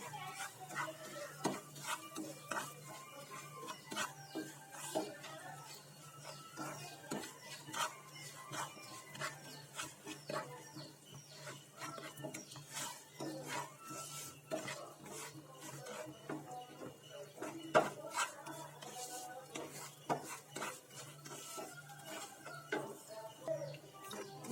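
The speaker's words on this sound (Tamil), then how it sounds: "நம்ம ஃபஸ்ட்டு ரவையை வந்து நல்லா வறுத்துக்கலாம்." Semolina roasting in ghee in a pan for rava payasam gives a quiet kitchen soundscape. A spoon stirs and scrapes with frequent light clinks and taps over a faint low sizzle.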